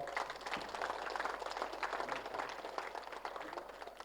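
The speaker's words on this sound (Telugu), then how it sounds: "శంకర్ కోసారి గట్టిగా క్లాప్స్ కొడదాం." An audience claps together at the inauguration of a pyramid meditation centre, producing a dense, sustained patter of many hands that stays fairly even before easing slightly toward the end.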